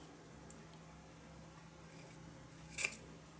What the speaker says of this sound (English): Scissors first.